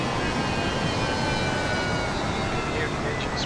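Steady broadband roar of a Fokker 70 airliner's engines in a flight simulator game, a constant even drone with no talk.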